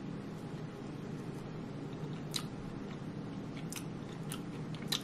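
Someone chewing an alcohol-infused sour gummy close up, with soft, wet mouth sounds and a few sharp clicks spread over a faint background hiss.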